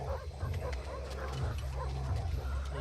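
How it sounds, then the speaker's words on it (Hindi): Wild dogs bark and yip in a dubbed horror thriller film scene, faint and distant yelps scattered over a steady low rumble and background noise. "ये सब जंगली कुत्ते हैं।"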